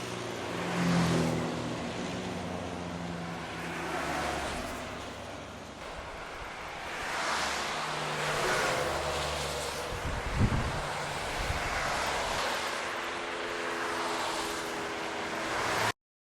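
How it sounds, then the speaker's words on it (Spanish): A constant roar of highway traffic, with vehicles swelling and fading as they pass, plus some wind rumble, with no voices. "es el sonido de una autopista"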